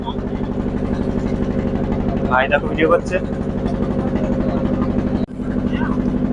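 A boat engine drones steadily with dense low harmonics while cruising on a Sundarbans river, loud and continuous throughout, with someone speaking over it and a brief drop near the end.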